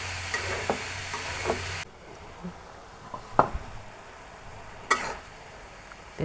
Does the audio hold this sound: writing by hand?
no